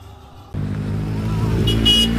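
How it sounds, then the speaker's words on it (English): Motorbikes roar past on a road in inland Andalusia, Spain, starting abruptly and staying loud and close, with engine growl throughout and a brief high-pitched whine near the end. "After not quite so rudely being disturbed by those motorbikes"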